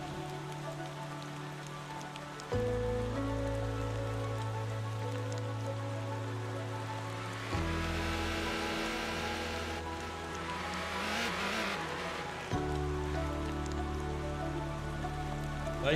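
Rain patters steadily during a race in a racing video game, a continuous hiss of drops with car engine tones rising and shifting underneath.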